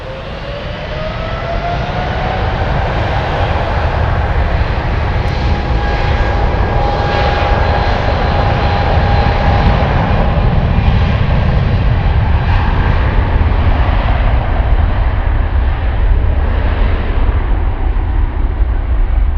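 A Latam Boeing 777-300ER jet taking off at Frankfurt, with a loud, sustained engine roar that holds steady throughout and a rising whine on top, heard alone with no voices.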